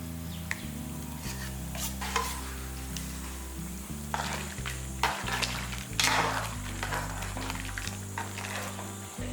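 Ground spice paste frying in a pot of mutton curry, with steady sizzling and repeated stirring scrapes at close range, no talking.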